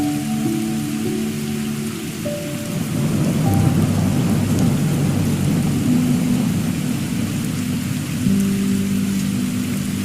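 Steady rain falls on a rainy day, a dense continuous hiss with low rumbling thunder beneath it, loud and close throughout and no voices.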